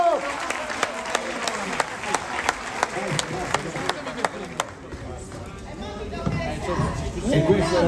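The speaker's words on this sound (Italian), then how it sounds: "L'applauso della sala stampa Ruff." Press room applause for Amadeus at the Sanremo Festival: sustained clapping with sharp, regular claps standing out over a dense crowd wash, thinning partway through, with voices talking underneath.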